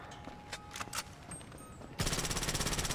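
Simulation guns firing in a mock attack scene: scattered sharp shots and faint voices, then a sudden loud rapid burst of automatic fire filling the last second.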